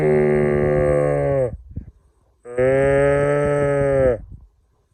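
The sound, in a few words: cattle mooing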